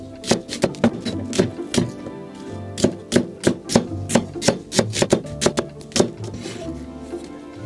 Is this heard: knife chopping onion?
yes